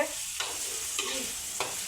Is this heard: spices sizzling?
yes